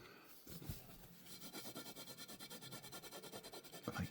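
Cotton fabric rubbing over a dry painted decorative plate, a faint, quick rhythmic swishing of strokes repeating steadily back and forth, close up and alone.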